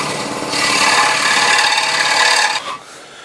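A scroll saw cutting wood with a rapid, buzzing rasp that starts loud and steady, then stops abruptly, leaving a quieter motor hum.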